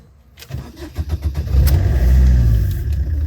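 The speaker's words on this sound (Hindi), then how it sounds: "तो मैं अभी सेल्फ मारता हूँ।" An engine cranks with a quick series of rhythmic churning bursts, then catches and settles into a loud, steady running rumble nearby.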